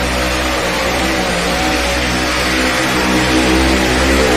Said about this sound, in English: engine not firing, could be possibly ignition, could be a little bit fat